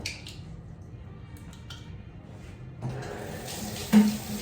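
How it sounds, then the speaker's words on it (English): Water runs steadily from a tap with light splashing while Invisalign aligner trays are brushed under it, swelling louder toward the end, with a brief clatter near the finish. "give them a good brushing under running water"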